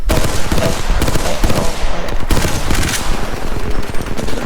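Rapid automatic gunfire in the battle royale shooter Apex Legends, loud and close, with sustained bursts of shots running throughout and no talk over it.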